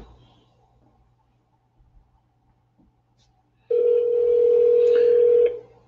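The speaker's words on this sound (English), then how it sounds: "See if they pick up the phone." A telephone ringback tone during an outgoing call: about three seconds of quiet line, then a loud, steady single ring tone lasting nearly two seconds before it stops.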